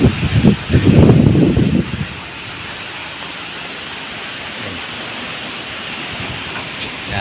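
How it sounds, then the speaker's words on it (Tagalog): Strong typhoon wind roars as a steady broadband rush, loud and close; a heavy buffeting gust dominates the first two seconds, then the wind settles into a constant hiss. "Ito na yung hangin guys."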